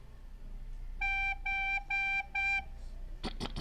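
Four short, clear recorder notes on the same pitch, a low G, evenly spaced, followed by a couple of breathy puffs.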